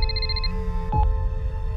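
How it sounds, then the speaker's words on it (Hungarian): A mobile phone rings inside a car with a repeating electronic ringtone, then a brief tonal blip and a thump as it stops, leaving low engine rumble. "Felvennéd a telefont?"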